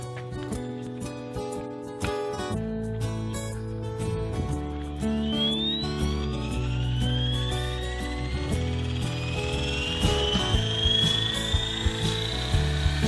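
Devil X360 remote-control helicopter spooling up, its whine climbing steadily in pitch over a busy mechanical clatter, close and fairly loud.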